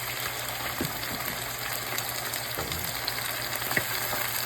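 Soy-and-calamansi marinated meat with onions sautéing in a hot pan, a continuous dense sizzle with a few sharper spatters and soft stirring scrapes, heard up close with no talking.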